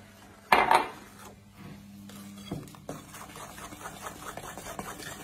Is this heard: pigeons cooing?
no